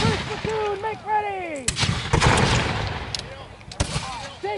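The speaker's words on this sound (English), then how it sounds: "Division will fire by platoons from the right." Platoon musket volley at a Fort Niagara reenactment: a loud crackling burst of gunfire around 1.7 seconds followed by scattered sharp shots, with shouted commands and voices heard before and between the reports.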